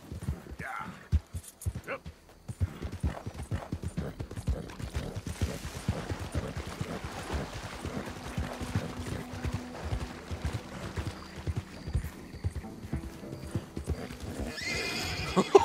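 A horse in the Red Dead Redemption 2 video game gallops with a rapid, steady clip-clop of hooves and lets out a whinny, over quiet game ambience.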